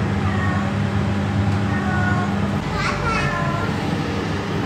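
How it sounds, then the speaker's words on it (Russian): A cat at the Zooland petting zoo in Baku meows a few times, the cries rising and falling over a steady crowd noise with children's voices and talk throughout. "Кошка?"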